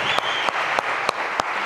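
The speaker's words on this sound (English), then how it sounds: "Can we have a round of applause for all the angels who've been helping out with the sound" An audience at a hacker camp lightning-talk session gives a brief round of applause, a dense clapping texture broken by a few sharper, evenly spaced thumps.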